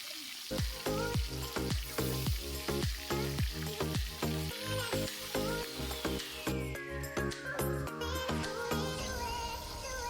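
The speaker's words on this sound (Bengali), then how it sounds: "এবার কড়াইতে তেল দিয়েছি মাছটা ভাজবো" Fish fries in hot oil in a wok, a loud, continuous sizzle with regular spitting pops and crackles, close up and with no talking.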